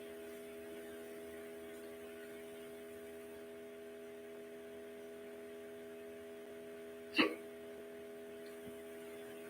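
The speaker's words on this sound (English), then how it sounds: "I know you're full by now because I'm getting the hiccups." A single sharp human hiccup, close and sudden, breaking a long stretch of steady electrical hum with no talking.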